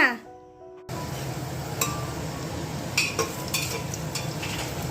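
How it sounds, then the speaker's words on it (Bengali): Potatoes frying in a pan at home, a continuous sizzle with intermittent clinks of a spatula against the pan, starting after a brief quiet moment. "দেখো বন্ধুরা আলু ভাজা চলছে"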